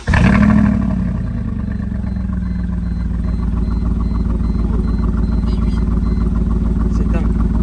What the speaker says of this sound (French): Je te laisse me la démarrer, Loulou, parce que vous allez entendre ça